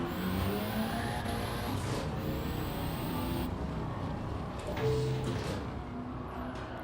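A turbocharged rear-wheel-drive car in Gran Turismo 7 drones steadily at full throttle through a race, its engine roar constant and close with slight shifts in pitch, no talking over it.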